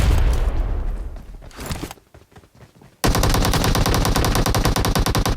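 Gunfire in a PUBG Mobile firefight: a heavy burst of shots that trails off into a short lull, then an abrupt, loud stream of rapid automatic fire hammering on to the end.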